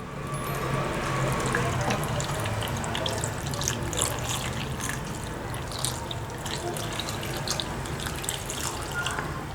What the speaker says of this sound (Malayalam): മാങ്ങ വേകുന്നതിന് ആവശ്യത്തിനുള്ള വെള്ളം വേണം ചേർത്ത് കൊടുക്കാനായിട്ട്